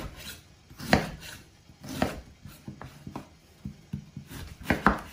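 A knife chops celery into small pieces on a board with quiet, irregular thuds and taps, some strikes sharper and louder than others.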